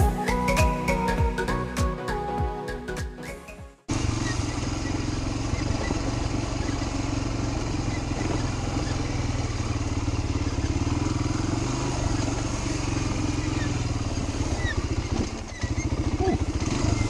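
A Fourtrax 250X quad's engine runs throughout a ride: rough, clattery revving at first, then a loud, steady drone mixed with rushing wind noise that continues for the rest of the ride.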